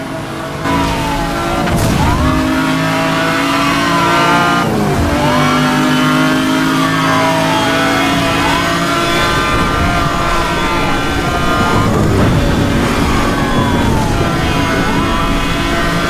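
A Bugatti Veyron in Need for Speed: Hot Pursuit drives at high speed, its engine screaming loudly and shifting through repeated gear changes. The revs sweep up and drop sharply every few seconds over a constant roar.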